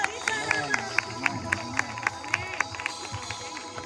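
Rhythmic, evenly spaced clapping from an audience at a healing and deliverance prayer meeting, steady beats mixed with a voice and tonal background sound throughout.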